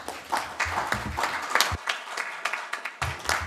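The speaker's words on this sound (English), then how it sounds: "if I may have another round of applause for all of our presenters this afternoon" An audience at a high-level meeting on the Djibouti Code of Conduct claps for panel presenters, a soft, moderately distant patter of applause that swells and fades in uneven bursts.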